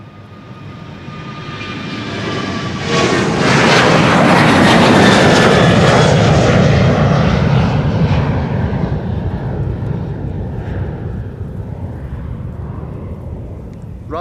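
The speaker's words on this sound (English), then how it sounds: "KLM flight 1959 to Istanbul, 737-800." KLM Boeing 737-800 jet airliner at Amsterdam Schiphol Airport, a loud roaring engine rumble that swells to a peak at mid-passage and then slowly fades as the plane passes, heard alone.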